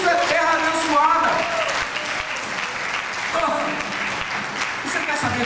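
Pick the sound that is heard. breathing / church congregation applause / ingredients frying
church congregation applause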